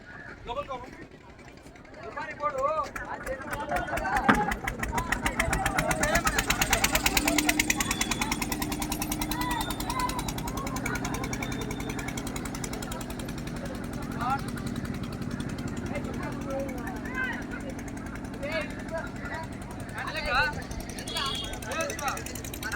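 A motor boat's engine chugs in a rapid, steady mechanical rattle while carrying people and sheep across a river from Somasila, the loud drone continuing throughout as people talk over it.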